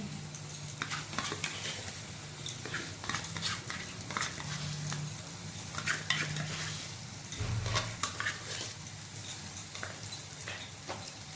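Yogurt and spice mix tipped into frying onions for a bottle gourd kofta curry sizzles steadily in the pan while a spoon stirs and scrapes with irregular clinks, close and continuous without talk.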